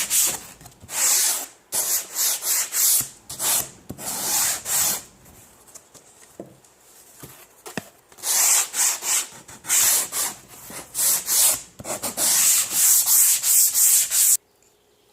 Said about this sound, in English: I'm going to sand the whole thing because I'm going to be painting this